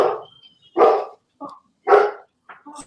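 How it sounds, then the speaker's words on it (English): Dogs barking indoors in a house, a few loud close barks in quick succession with short yips between, no talk. "Sorry, we got 8 dogs in the house."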